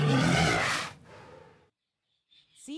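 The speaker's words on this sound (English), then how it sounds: "Walrus." A walrus gives a loud, rough, bellowing call lasting about a second, followed by a quieter trailing grunt and then silence, with a faint high squeak right at the end.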